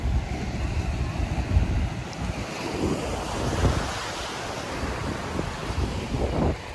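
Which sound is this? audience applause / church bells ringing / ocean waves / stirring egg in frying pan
ocean waves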